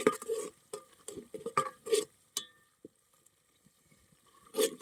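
Crab curry with onion, tomato and crab fat being stirred in a pan, giving a run of close scraping and clinking strokes in irregular bursts, then a quiet stretch before a final loud stir.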